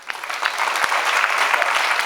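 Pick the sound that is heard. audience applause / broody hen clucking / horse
audience applause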